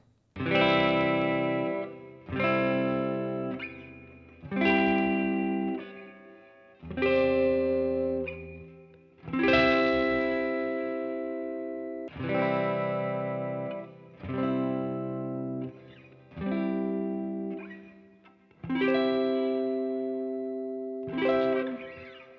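An electric guitar rings out a series of strummed chords moving from the first position up the neck, about ten separate chords each decaying before the next, clear and close with no talk.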